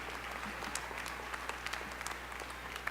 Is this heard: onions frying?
no